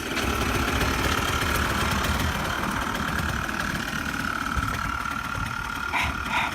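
ATV engine idling steadily right after being started outdoors, a continuous close rumble with a faint rhythmic knock running unbroken throughout, no talk over it.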